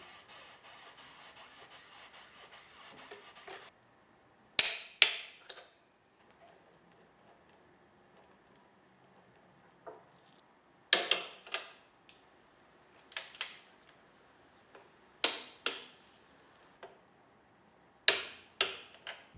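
A worn swing arm on a Honda CRF250L motorcycle squeaks and creaks in short clustered bursts that recur every few seconds, separated by near silence.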